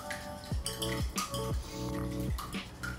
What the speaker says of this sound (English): I'm gonna use this little mini whisk,